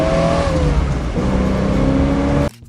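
A 1969 Ford Mustang Boss 429 with its 429 cubic inch semi-Hemi V8 roars loudly and close as it accelerates through the gears, its pitch rising and then dropping at a shift, cutting off abruptly at the end.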